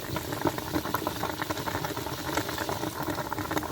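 Zinc coating on steel dissolving in muriatic acid, a dense steady fizzing and bubbling hiss at close range, continuous and even with no voices.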